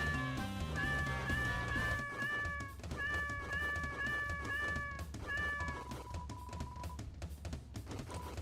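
A cat meows repeatedly in the Deltarune video game, a string of bright tonal meows in quick succession over a busy, rhythmic game soundtrack.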